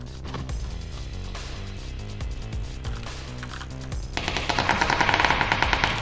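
Automatic gunfire in PlayerUnknown's Battlegrounds, a steady run of rapid shots throughout, growing louder and sharper in the last two seconds with dense bursts.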